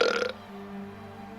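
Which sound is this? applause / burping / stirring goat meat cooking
burping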